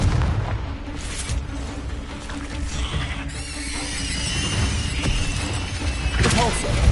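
Confringo blasting spell cast in the video game Hogwarts Legacy, a dense explosive burst with crackling debris over a rumbling battle background, with another bright blast near the end.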